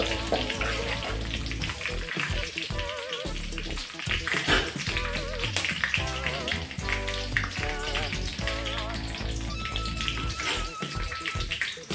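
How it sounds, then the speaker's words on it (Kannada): Curry leaves fry in hot oil for rava uppittu, a loud, steady sizzle with bubbling crackle and occasional clatters of a spoon stirring the pan, continuous throughout. "ಕರ್ಬೇವು ಸ್ವಲ್ಪ ಚೆನ್ನಾಗಿ ಫ್ರೈ ಆಗಿದೆ"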